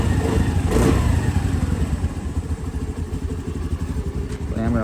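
A Honda Navi's small engine runs steadily just after starting, a close, pulsing idle with a brief throttle blip near the start, while someone talks over it.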